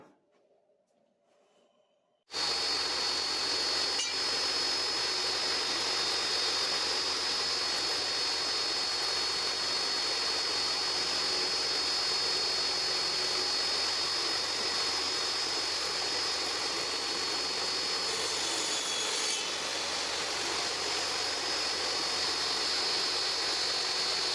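A power saw cuts repeated grooves in wood at half-inch spacing, starting abruptly after a brief quiet moment and then running as a loud, steady, continuous whine close by with no talk.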